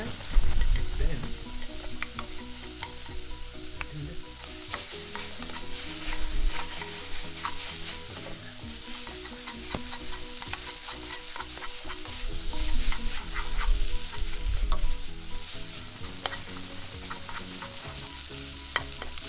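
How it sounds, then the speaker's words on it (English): Instant noodles and eggs being stir-fried in a pan, a steady close sizzle overlaid with repeated scraping and clattering strokes of a utensil against the pan, continuing throughout without talk. "Okay, now we start to mix it with the eggs."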